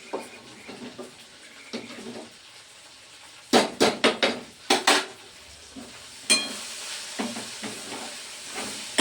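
Okra fries in a pan with a steady hiss, broken by sharp scraping and clattering strokes of a spatula against metal.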